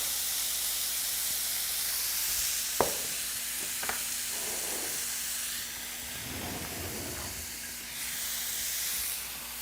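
Burger meat sears in a hot pan with a steady, soft hiss of sizzling. A couple of sharp utensil taps stand out early on.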